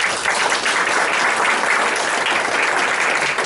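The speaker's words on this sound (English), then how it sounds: "Let's give him a round of applause." An audience at a mathemagic stage show applauds a volunteer coming up on stage, the clapping dense, steady and loud for a few seconds.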